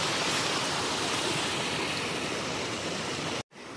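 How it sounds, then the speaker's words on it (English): A small waterfall splashes steadily into the cold plunge pool beside a hot spring, producing a close, dense and continuous rush of falling water that cuts off abruptly near the end. "Amazing little waterfall cold plunge"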